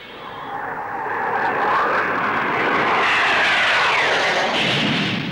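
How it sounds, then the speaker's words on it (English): A Blackburn NA-39 two-seat naval strike jet passing at an airshow, its roar swelling steadily from quiet to a loud sustained peak, then holding there, alone without voices. "Blackburn Aircraft's contribution in the transonic field is the NA-39, a two-seater strike aircraft for the Navy"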